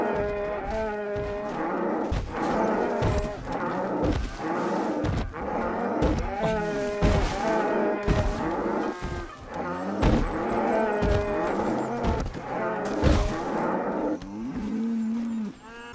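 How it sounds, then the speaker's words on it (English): A cow moos repeatedly in the Red Dead Redemption 2 video game, producing loud, drawn-out lowing calls one after another with no talking. "I am a cow."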